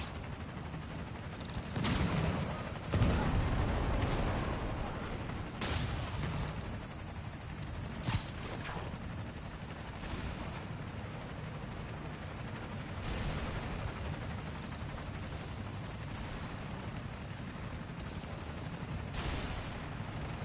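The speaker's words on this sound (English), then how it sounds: "Need to head toward the gunfire." Gunfire in a Spider-Man Miles Morales video game, heard during a blizzard near an apartment building: scattered bursts and sharp shots over steady roaring wind noise, with a heavier cluster of blasts early on.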